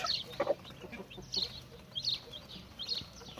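A yellow hen clucks beside her chick, sounding a series of short, fairly close clucks in an irregular rhythm with quiet gaps between them.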